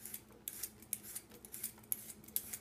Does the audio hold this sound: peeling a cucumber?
yes